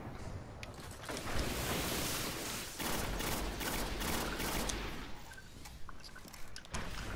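Heavy video game shooter gunfire, dense overlapping volleys and booms from many weapons, loud and sustained throughout with brief lulls between bursts.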